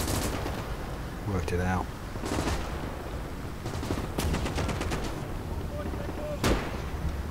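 Gunfire in the real-time strategy game Gates of Hell on the Soviet campaign, with troops shooting at a lone artillery man: scattered bursts of rifle and machine-gun fire and one sharp louder shot, heard under a voice and battle noise.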